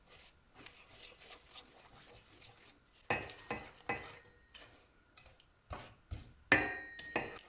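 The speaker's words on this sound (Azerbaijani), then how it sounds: "Az ateşdə yağ əriyənə qədər qarışdırıram" A spoon stirs butter and sugar in a pot over low heat, making faint scraping and soft clinks against the pot with a few louder knocks.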